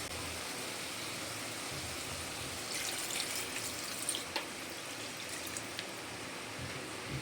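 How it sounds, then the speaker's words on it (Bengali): Water pours into a mango and snakehead fish curry in the pot, a soft splashing trickle that swells briefly midway over a steady background hiss, close by and without speech. "এবার আমি এর মধ্যে দেব অল্প পরিমাণে জল।"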